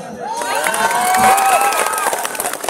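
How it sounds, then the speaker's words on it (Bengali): A program audience breaks into cheering and shouting, a dense, sustained crowd roar with high excited voices rising and holding steady for a few seconds. "আমার জন্য একটা জোরদার তালিয়া"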